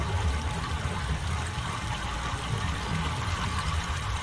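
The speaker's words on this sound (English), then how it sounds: "And now water's flowing. You can hear it" Water rushes steadily through pipes in the Channelwood Age of Myst, a constant low, muffled flowing hum with faint trickling, even and unbroken, no speech.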